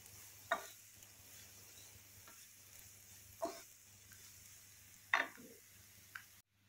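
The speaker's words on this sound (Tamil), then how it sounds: "வெங்காயம் நல்லா வதங்கி வரணும்." A few sparse spatula scrapes and stirs of onions sautéing in a pan, with a soft steady background hiss and four sharp clicks spaced a couple of seconds apart, faint and quiet.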